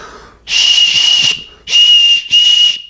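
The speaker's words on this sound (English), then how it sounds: "And lastly, a little whistle of itself. Let's see how this one sounds." A small survival kit whistle is blown three times at close range, loud, shrill and piercing, with the first blast longest and two shorter ones following after brief pauses.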